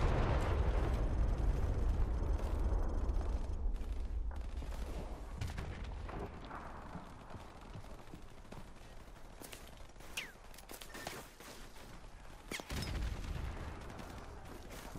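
In Call of Duty: Modern Warfare Remastered, a heavy battle rages around a tavern, loud booming explosions and dense bursts of gunfire crashing one after another with sharp cracks between the blasts, close and intense.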